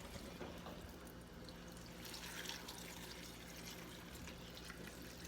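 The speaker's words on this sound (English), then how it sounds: "you're going to add spring water just until it covers" Spring water poured steadily into a soup pot holding mushrooms, wild rice and chayote, a continuous faint splashing wash of liquid that runs throughout without pause.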